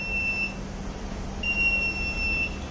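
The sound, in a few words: buzzer beeping on and off twice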